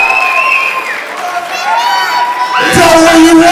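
A wrestling event crowd roars with cheers, whoops and shouts, loud and sustained, swelling toward the end.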